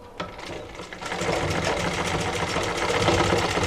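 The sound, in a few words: sewing machine stitching a blouse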